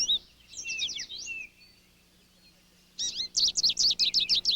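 Winter goldfinches at a backyard feeder give quick, bright twittering chirps in two lively bursts, one at the start and a denser run at the end, separated by a quiet pause.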